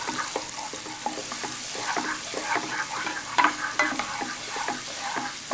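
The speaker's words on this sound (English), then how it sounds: "just saute them enough to bring the flavors out in oil" Garlic, mushrooms and red pepper flakes sizzle steadily in hot oil in a pan, with repeated scraping and stirring strokes close by and no talking.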